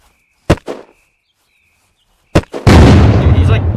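Rocket launcher fire and explosions in a video game: two sharp, loud blasts a couple of seconds apart, followed by a sustained roaring explosion burst that carries on to the end.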